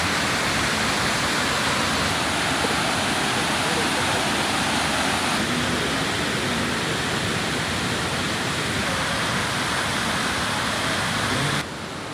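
Floodwater after sudden rain roars through the opened spillway gates of a reservoir, a loud, constant, dense rushing wash that barely changes for over ten seconds, with faint voices mixed in.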